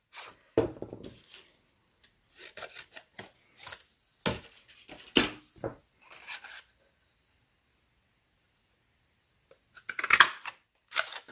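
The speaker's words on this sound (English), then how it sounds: "Depending on your cardstock, you may need to cut off some paper to get it all to fit." Scissors cutting cardstock for a card project, a series of short close crisp snips in bursts with pauses between, in a quiet room.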